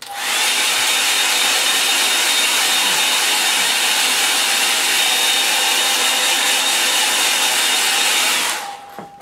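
A hair dryer blows steadily on a freshly painted watercolour, a loud continuous whooshing hum that holds for about eight seconds before cutting off, alone with no talk.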